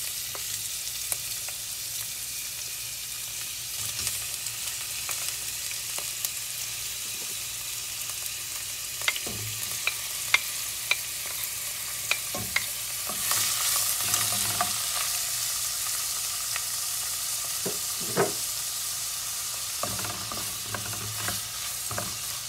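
Squid sizzles and crackles in a hot pan while being stirred, a steady frying hiss broken by sharp clicks of the utensil against the pan, heard close and alone.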